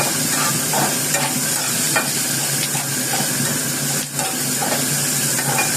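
Vegetables sizzle and fry in a hot pan, a steady crackling hiss with occasional stirring scrapes, close by and without speech.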